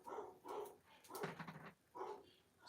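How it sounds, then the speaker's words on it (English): Several dogs bark indoors at someone at the door, a handful of faint, separate woofs spaced through a short stretch with whimpering between them. "Sorry if you're hearing my dogs."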